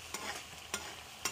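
A turmeric vegetable dish is stirred quietly in a kadai over a faint low sizzle, with three evenly spaced spoon scrapes against the pan.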